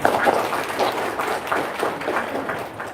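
Audience claps in response to a call for applause, producing a rhythmic burst of hand claps in pulsing waves that fades slightly toward the end, with no talking over it.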